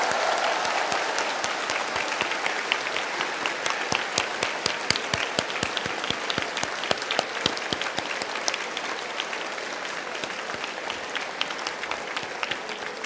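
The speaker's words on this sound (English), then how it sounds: "Let us give a warm round of applause to our new lawyers." Warm, sustained applause from a seated crowd at a bar oath-taking ceremony for new lawyers, dense steady clapping that fills the room evenly throughout with no talking over it.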